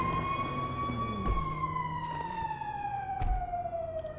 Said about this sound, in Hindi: तो गाइस फायर ब्रिगेड आ गई है, मेरी कार कर रहे हैं ये